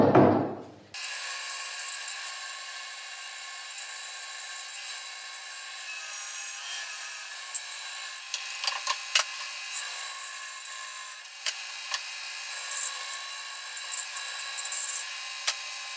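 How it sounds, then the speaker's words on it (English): Continuous hand sawing into a wooden table joint to make two kerfs for fox wedges, a steady rasping stroke rhythm heard close up and fairly loud, with no talking. "I'll put 2 cuts here and drive 2 wedges."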